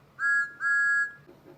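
A steam engine whistle from a children's railway story, sounded as two clear tonal blasts, a short one followed by a longer one, fairly loud with quiet background after.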